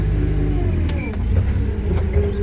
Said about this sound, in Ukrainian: трохи підніму вила, вперед, відпускаю, навантажувач поїхав